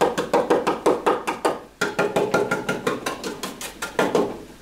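A hammer pounds a painted wooden school bench to rough up the chalk-painted surface. The sharp, evenly spaced blows come in two quick runs, close and loud, with a short pause between them.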